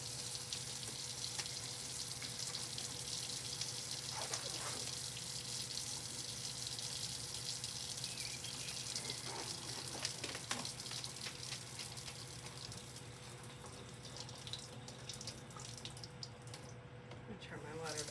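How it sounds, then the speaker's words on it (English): Kitchen-style sink faucet running steadily, a continuous broadband water hiss filling the basin that holds even and close throughout, with a few faint clicks and a voice briefly audible under it. "I'm going to come over to my sink and turn on my water so that it can start getting hot."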